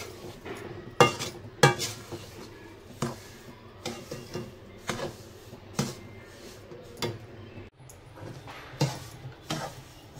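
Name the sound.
stirring semolina in a hot wok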